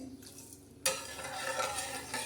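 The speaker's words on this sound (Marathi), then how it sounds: "हलवून घेणार आहोत आता हे उकळणं चांगलं उकळून देणार आहोत" A spoon scrapes and stirs through a pot of milk, then a sudden bubbling hiss rises and continues as the milk simmers close by.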